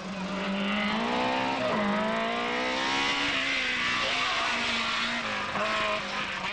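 Ten-year-old BMW M3 rally car on a stage of the 1996 Rallye des Géants, its engine roaring loud and close with rising and falling revs through gear changes and a brief tyre squeal, steady and continuous throughout.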